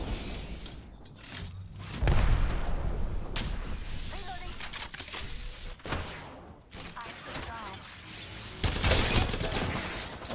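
Gunfire in the battle royale shooter Apex Legends, with bursts of automatic shots and thuds during a hardcore match, loud bursts recurring across the stretch alongside some talk and game effects.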